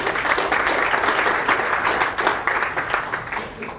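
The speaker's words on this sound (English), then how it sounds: "So give yourself a hand of applause also." Audience at a business gathering in Bangkok applauding, a dense, steady wash of many hands clapping close and loud for nearly four seconds, thinning slightly toward the end.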